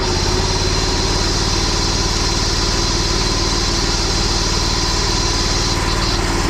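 A pressure washer engine runs continuously and loudly at a steady buzzing pitch while its soap injector kicks in, a constant drone with no variation or speech.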